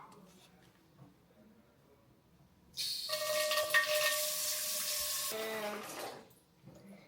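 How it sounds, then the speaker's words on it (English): Tap water runs steadily into a cooking pot for about three seconds, a bright rushing stream whose pitch shifts as the pot fills, then stops, with quiet room noise before and after. "I'm going to be putting inside my water inside my pot"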